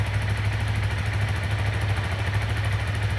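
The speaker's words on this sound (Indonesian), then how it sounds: "di sini mesin sudah nyala" A Honda Supra GTR 150 motorcycle engine runs steadily after starting, a close, even idle with a firm low pulsing throb and no voices over it.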